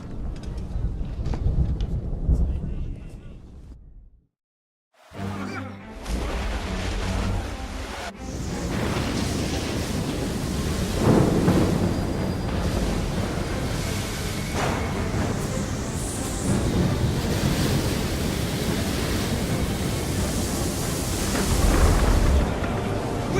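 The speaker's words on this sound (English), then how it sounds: "You wish us to sail into the storm?" A storm at sea rages in Assassin's Creed III, with a dense, roaring wash of wind and crashing waves, a brief dropout near the start, then continuous loud turbulent noise with booming surges.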